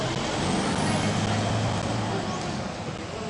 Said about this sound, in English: we're gonna let the traffic pass by